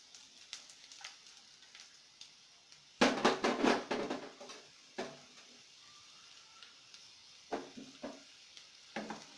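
Chopped onion and green chillies drop into hot oil with a sudden burst of crackling sizzle. A softer, uneven frying hiss follows, broken by scattered clicks and scrapes of stirring, all fairly quiet and close.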